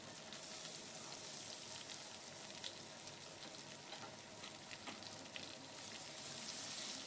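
Taro corms frying in a pan with salt and turmeric make a constant close sizzle with crackling pops and occasional stirring scrapes, quiet overall, no voices.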